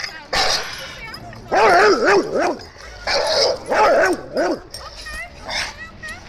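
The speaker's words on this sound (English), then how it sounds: "he sometimes he'll bark and stuff and act all tough." A dog barks and whines in loud, close bursts, with wavering yelping tones between gaps, while people talk alongside.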